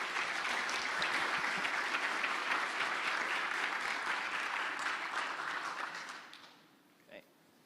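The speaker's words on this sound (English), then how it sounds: "Everyone give a round of applause." A conference audience at a summit in Lisbon breaks into steady applause that holds for several seconds, then thins out and dies away, leaving a few faint sounds in a quiet hall.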